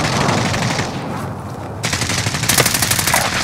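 Gunfire in a battle royale video game duos match, loud bursts of rapid automatic shots, a hiss-filled stretch giving way to a fast rattling volley.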